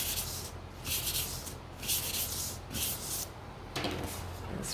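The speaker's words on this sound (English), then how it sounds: "just give this a quick sand" Sandpaper rubs by hand across a wooden hanging sign in repeated back-and-forth strokes, close and scratchy, with no voices.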